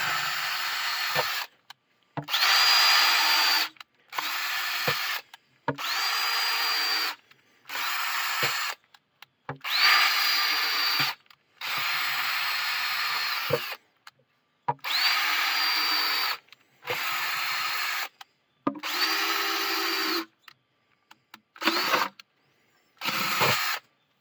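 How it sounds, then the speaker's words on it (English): A power drill whirs in repeated short bursts, starting and stopping over and over as holes are bored, close and loud with pauses between. "Drilling a couple of holes"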